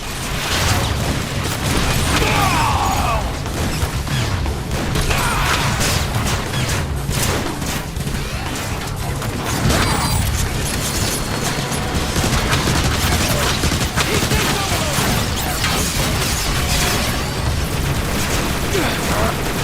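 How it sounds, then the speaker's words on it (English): Dense, continuous gunfire from the windows in Transformers: War for Cybertron, a loud sustained barrage of rapid shots and mechanical clatter with occasional booms, mixed under intermittent talk. "They're firing from the windows!"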